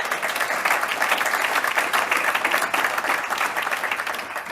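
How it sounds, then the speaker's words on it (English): A Rotary club audience gives a round of applause for the event's sponsors, sustained dense clapping from many people filling the room without pause. "We have a round of applause for our sponsors"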